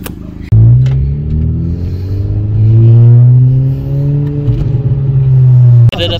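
A 10th-generation Honda Civic Si fitted with an aftermarket exhaust revs hard toward 6,000 rpm. The engine climbs in a long, loud, rising roar, then drops back to a rumbling idle, heard up close with no talk.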